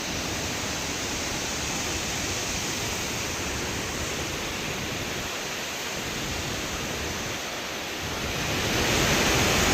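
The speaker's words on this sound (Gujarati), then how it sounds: "મસ્ત મજાનું ઝરનું વહે છે" A steady, dense rush of a waterfall stream fills the scene continuously, broad and unbroken, swelling slightly louder toward the end.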